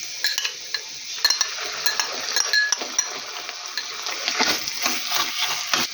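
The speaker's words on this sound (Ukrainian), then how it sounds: "хай трошечки тут на середині добре просмажиться томатна паста" Tomato paste sizzles and spatters in a hot pan, with scattered scrapes and clinks of a utensil stirring against the metal.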